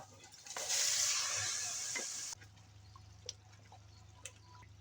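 Hot baghar of garlic, onion and dried chilli poured onto haleem bursts into a bright hissing sizzle for about two seconds, then cuts off, leaving a low hum and a few faint clicks.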